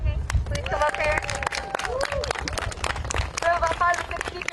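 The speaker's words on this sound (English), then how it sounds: "So can we have a round of applause?" Crowd at a student protest in Washington clapping and cheering outdoors, with scattered claps, shouts and overlapping voices.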